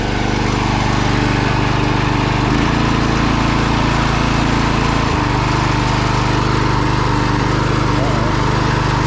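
ATV sickle-bar mower's small engine running and warming up outdoors after refuelling, a loud continuous buzzing drone with steady pitch and a couple of brief shifts in tone.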